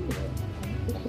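Soft, low pigeon coos repeat a few times close by, with faint chirps and light background noise.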